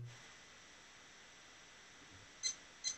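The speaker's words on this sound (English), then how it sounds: "we're going to set the timer to" An oven timer beeps twice near the end, two short, clear electronic tones in a quiet kitchen after a stretch of low background hiss.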